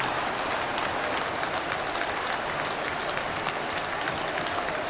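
A stadium crowd at Pride Park on a cold Friday night roars and applauds steadily after a Derby County goal against Colchester United, a dense wash of noise with no let-up across the whole stretch.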